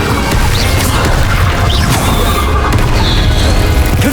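An Incendio fire spell cast in Hogwarts Legacy, a loud, dense roaring burst of flame and crashing impacts that fills the whole stretch with no pause.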